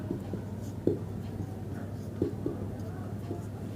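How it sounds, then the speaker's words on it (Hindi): Marker or chalk writing on a board during a maths lesson: soft scratchy strokes and a few small taps over a low steady hum, with quiet speech in the background. "नंबर 2 यहाँ लिखते हैं साबित करना।"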